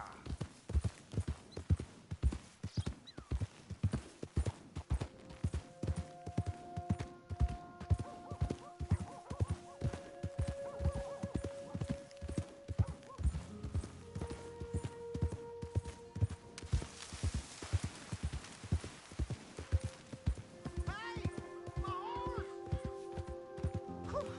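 Horse hooves clip-clopping at a steady, quick rhythm in Red Dead Redemption 2, a continuous run of close, even hoofbeats with a whinny and game sounds layered over it.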